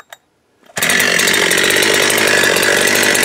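Husqvarna 372XP chainsaw with a HyWay cylinder, tuned slightly lean, snarling to life after a brief quiet start and running loud and close at steady high revs.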